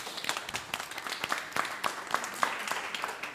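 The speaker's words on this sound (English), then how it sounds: "give a big round of applause to our panelists" An audience at a panel discussion claps in a steady burst of applause, many hands at once, moderately loud and sustained throughout.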